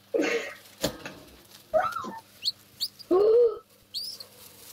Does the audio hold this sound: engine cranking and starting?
no